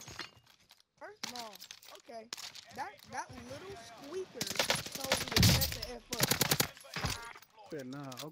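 Rapid SMG hip-fire bursts in Warzone, with loud crackling volleys around the middle of the clip, mixed in with a voice talking throughout.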